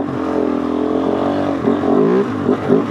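A Kove 450 Rally motorcycle engine just after a downshift into first gear, a close, steady idle-to-rising drone with a couple of quick throttle blips near the end.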